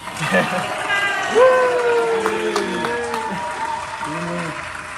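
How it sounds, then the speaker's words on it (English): Applause at an online community awards ceremony: a few seconds of clapping with voices talking and calling out over it, moderately loud and close. "The clapping sound."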